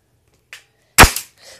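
A toy shotgun fires once with a loud, sharp crack up close, followed by a brief rattle, after a fainter click beforehand.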